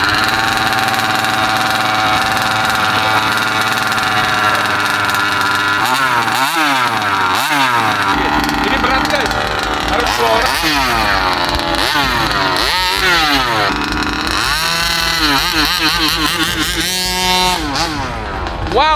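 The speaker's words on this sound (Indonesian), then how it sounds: "Jadi RC ini yang terakhir akan kita coba, suaranya adalah yang paling keras, lebih keras daripada yang sebelumnya ya." A fast RC car engine, one of the fastest models said to reach 200 km/h, fires up and revs hard and loud, with sweeping rising and falling pitch throughout and a voice partly heard under it.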